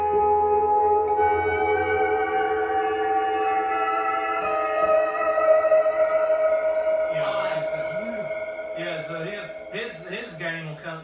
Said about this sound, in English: So you have to go in here and you put your distortion like this.